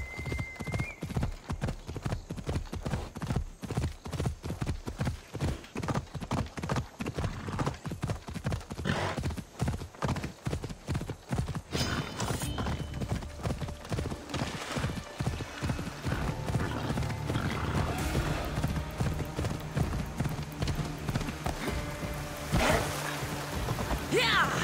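Horse hooves clip-clopping in a fast, steady rhythm as the horse is ridden in Assassin's Creed Odyssey, loud and close, with a brief whinny partway through and a rain-like wash building toward the end.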